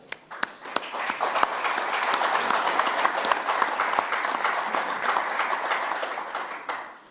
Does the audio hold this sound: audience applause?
yes